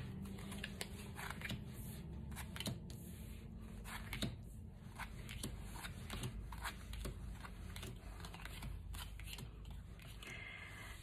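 A deck of Katina tarot cards is shuffled and handled close up, with soft repeated riffling, flicks and card snaps in a quiet room, fairly faint and with no speech.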